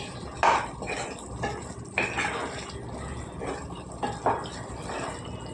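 Cauliflower and bean curry stirred in a pot, with a few distinct clinks and scrapes of a spoon against the metal at irregular intervals over a soft background, no talk.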